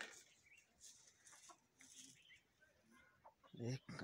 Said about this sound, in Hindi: ये मुर्गा आ गया